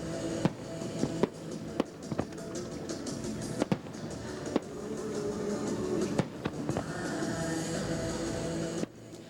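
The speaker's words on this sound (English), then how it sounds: "Portugal let off some steam tonight at the annual fireworks competition." Distant fireworks at an annual fireworks competition in Toronto pop and crack at irregular intervals over a steady rumbling background, with a few sharper bangs standing out.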